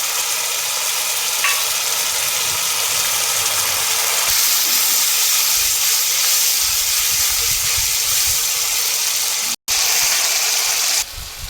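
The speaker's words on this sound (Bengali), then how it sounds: "এবার আদা, টমেটো, কাঁচা লঙ্কা বাটা দিয়ে দিচ্ছি" Ginger, tomato and green chili paste hitting hot oil, giving a loud, steady, close sizzle and hiss that fills the whole stretch with only a brief break near the end.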